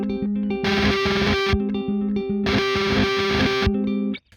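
An electric guitar played through Neural DSP plugins, a clean tone and a high-gain tone, controlled from a Line 6 Helix, alternates between clean and heavily distorted sections, with loud sustained riffs and the high-gain bursts filling out the sound.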